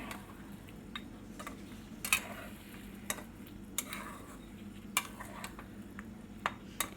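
Chicken, already fried, is stirred with a little sugar in a pot, giving soft scraping and intermittent light clinks of a utensil against the pan, quiet and close, with no talking.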